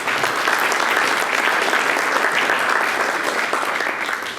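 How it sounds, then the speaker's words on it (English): Dense, steady applause from a large audience at a Silicon Valley community unity day gathering, sustained evenly throughout and easing slightly at the end, with no talking. "A big round of applause for Sriram."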